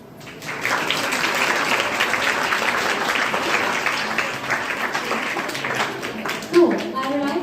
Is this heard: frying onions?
no